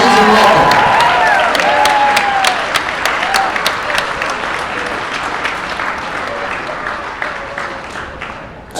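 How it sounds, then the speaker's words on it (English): A large crowd in a packed gym at a unified basketball tournament applauds the teams in a long, loud wash of clapping with scattered cheers and voices, slowly fading toward the end. "Nice round of applause for all our teams."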